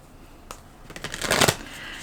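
A deck of tarot cards is shuffled close by, a brief flurry of rapid riffling flicks building to a dense crisp burst before stopping.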